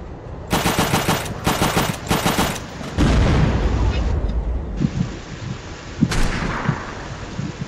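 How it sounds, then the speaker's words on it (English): Video game gunfire in Unturned during a WW2-style battle: several loud bursts of rapid automatic fire in quick succession, then heavy booming shots and a sustained rumbling barrage with scattered pops, ending in another sharp blast. "Somebody just shot at me."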